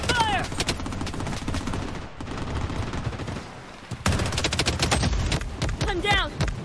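Gunfire from the Blood Strike battle royale game, loud dense bursts of automatic shots running almost continuously under game effects and speech-like voices throughout.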